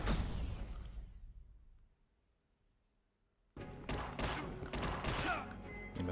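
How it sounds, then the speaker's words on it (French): Gunfire from a gun in the video game Unmetal: a loud burst of shots, then a quiet gap of about two seconds, then another dense volley of sharp cracks and clatter. "C'est le flingue."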